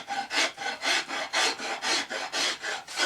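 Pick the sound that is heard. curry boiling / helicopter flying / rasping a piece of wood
rasping a piece of wood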